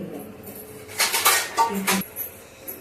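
Metal lid set onto a cake pot with a few bright clanks and rattles over about a second, close and fairly loud, with faint room noise around it.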